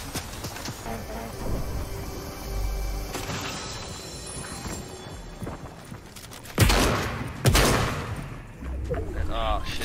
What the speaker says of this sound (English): We have a guy shooting us behind us.